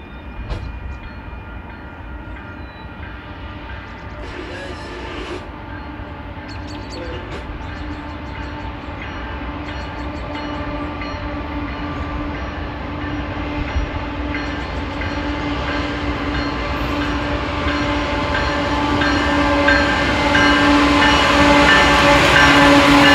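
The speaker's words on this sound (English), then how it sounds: "a Union Pacific westbound manifest arrived" A westbound Union Pacific manifest freight train rolls past, its steady rumble and squealing, ringing wheel tones building louder and nearer over more than twenty seconds with no talking.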